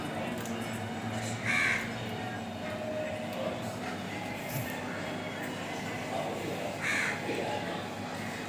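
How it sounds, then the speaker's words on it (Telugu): Crows in a park give two fairly faint caws, early and late, while eating chicken and rice, over a steady outdoor background hum. "చికెన్ బువ్వ తింటున్నాయి మా కాకులు"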